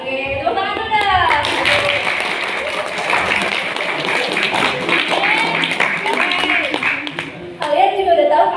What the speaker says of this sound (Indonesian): Oke, tepuk tangan dulu dah.